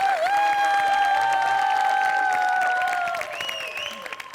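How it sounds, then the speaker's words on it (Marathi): Audience applause at a Marathi comedy stage show, a steady wash of clapping over sustained musical tones, easing off toward the end. "बांगरसाठी पण टाळ्या वाजल्या पाहिजे"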